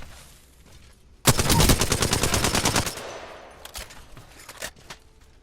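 Apex Legends light-class weapon fire comes as a rapid, loud automatic burst lasting under two seconds, followed by a few scattered single shots in a quieter game ambience.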